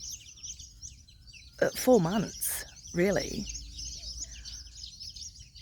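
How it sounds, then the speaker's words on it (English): Small birds chirp and sing busily outdoors in a dry, rain-starved yard as the seasons change, their bright calls steady throughout while someone talks over them. "listen to these little birds. They are just going off."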